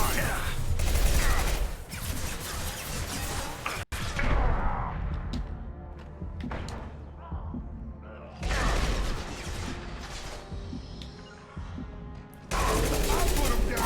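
Mass Effect 2 firefight with heavy gunfire bursts and rapid automatic shots, loud and close, dropping to quieter stretches before bursting again; voices may be faintly mixed in.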